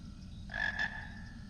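A frog croaks once in a first-person Frogger-style video game, a short clear double croak rising out of a quiet background hum.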